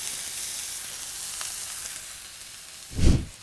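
Pork chops sear in a hot pan with a steady close hiss and crackle, followed near the end by a louder low thump or rumble from the pan, with no one talking.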